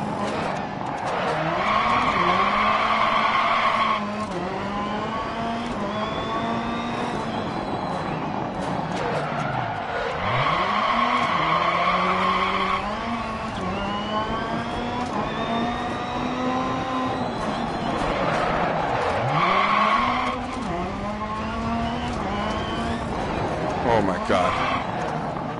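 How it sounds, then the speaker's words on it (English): A touring race car drives fast in DiRT Rally, its engine revving up and down in repeated cycles as tires skid and squeal through corners, loud and continuous, with a voice talking over it. "Oh, this car freaking goes fast."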